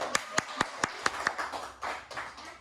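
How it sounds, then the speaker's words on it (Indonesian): A small group at a school counselling workshop claps, starting with about six sharp, evenly spaced claps up close, then looser, softer scattered clapping that trails off. "Tepuk tangan untuk dia."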